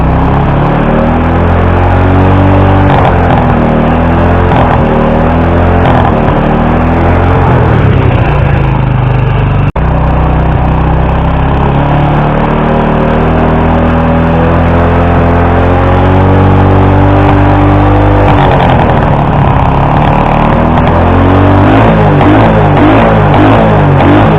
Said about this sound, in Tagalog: pihitin natin yung throttle, bigyan natin ng gas